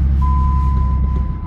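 2004.5 Ram 3500 truck with a new starter backing up, its deep engine rumble steady and close, with a thin continuous high tone running over it.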